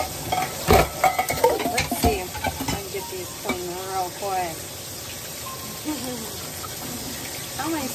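A ribeye steak sizzles in a hot pan with a bright, crackling hiss, broken by a few sharp clatters and scraping early on, while a person talks over the cooking.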